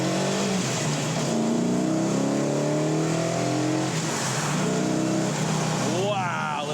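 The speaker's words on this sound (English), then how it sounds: "I get to accelerate to the operating speed limit here." A 1968 Dodge Charger R/T accelerating hard, its engine roaring steadily and rising in pitch through the gears, close and loud, with a brief whine at the end.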